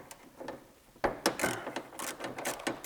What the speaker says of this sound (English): take our 13 millimeter socket and take off the 2 bolts that are here holding the back of the bracket on